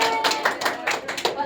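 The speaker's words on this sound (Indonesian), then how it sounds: "Boleh diberi tepuk tangan." Classroom applause for a student group after a lesson exercise, a short burst of scattered hand claps from a small group of pupils, fairly close and uneven, with faint voices mixed in.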